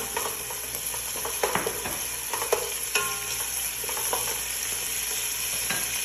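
Coriander leaves being stirred into a frying pan while cooking okra stew, giving a steady sizzle with a few soft scrapes and clicks of the utensil against the pan, close and continuous.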